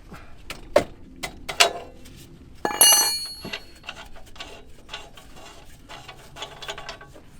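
A 22mm wrench loosening an oxygen sensor on a Range Rover gives close, sharp metallic clicks and clanks, with one denser scraping burst midway, heard alone without talk.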